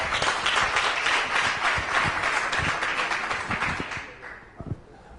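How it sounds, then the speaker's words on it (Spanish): An audience at Valencia CF's official presentation of footballer Seydou Keita breaks into sustained applause, dense and fairly distant, tapering off after about four seconds into a few scattered claps and soft murmur. "Un fuerte aplauso para Keita."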